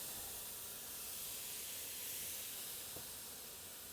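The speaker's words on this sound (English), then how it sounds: "So we're gonna get them right over these coals." Marinated chicken thighs sizzle over hot grill coals, giving a quiet, steady hiss with no break throughout.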